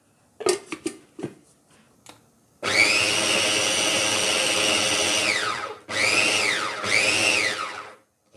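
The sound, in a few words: electric chopper chopping onion, tomato and green chili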